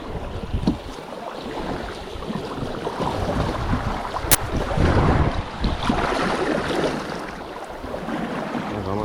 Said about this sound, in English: Next little section of rapids coming up.